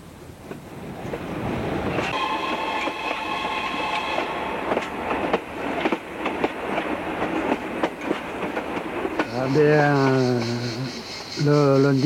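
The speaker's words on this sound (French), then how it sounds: "le sifflet du train." A Camargue railway train rolls past with steady rumbling and wheel clatter, then sounds its whistle in loud, repeated tonal blasts near the end, close and prominent.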